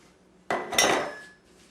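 Sugar being mixed into cream cheese in a bowl, a few short scraping knocks of a utensil against the bowl, close and fairly quiet, with no voices.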